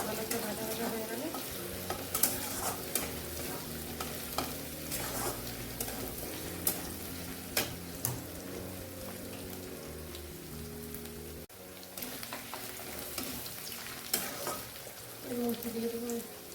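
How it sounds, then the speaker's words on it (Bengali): Garlic and ginger fry in a pan with a steady, busy sizzle, punctuated by occasional sharp spatters and the scrape of stirring, with no talking. "রসুনের আদা একটু ভালো করে ভাজা ভাজা হয়ে গেলে"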